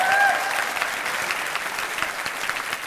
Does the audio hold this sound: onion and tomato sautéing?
no